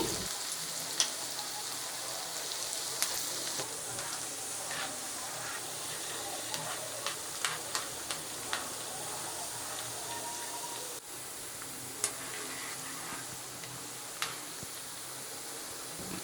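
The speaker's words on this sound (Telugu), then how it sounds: "ఆయిల్ వేడెక్కాక స్టవ్ని మీడియం ఫ్లేమ్లో కానీ లో ఫ్లేమ్లో కానీ పెట్టుకొని మనం డీప్ ఫ్రై చేసుకోవాలండి" Crispy corn deep-fries in hot oil with a soft, continuous bubbling sizzle and scattered small pops and crackles throughout, fairly quiet and heard alone.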